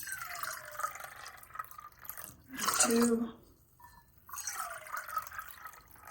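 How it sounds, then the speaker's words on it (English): Water is poured into a measuring cup while measuring out three cups for sweet pongal: a short splashing pour in the middle, with a person speaking before and after it. "I'm going to measure out about 3 cups of water."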